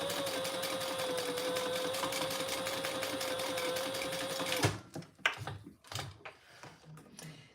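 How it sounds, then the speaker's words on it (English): Sewing machine stitching a fabric fish-shaped pouch, a steady close whirring run for several seconds before stopping abruptly, followed by scattered handling clatter. "Now, you could do 2 rows of stitches here"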